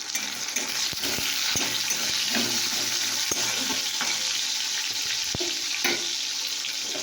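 Chopped tomato sizzles steadily in a hot frying pan of oil, a continuous crackling fry with occasional stirring clicks and scrapes, close and fairly loud without any talk.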